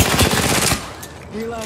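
Video game gunfire, a loud stream of rapid automatic shots for under a second, then a quieter stretch with faint game sounds and tonal effects, no voices over the shooting.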